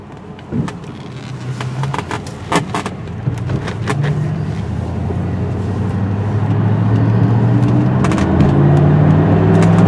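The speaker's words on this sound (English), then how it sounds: "It's a V8 engine in this little car, and I'll tell you, it does get up and go." A 1988 Mercedes-Benz 560 SL V8 roadster driving in rush-hour traffic, engine drone rising steadily in pitch and loudness as it accelerates, with a few brief clicks early on.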